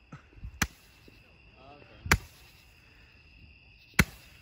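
Fourth of July fireworks pop as three sharp, distant bangs spaced well apart, with a faint background hiss and murmuring between the reports.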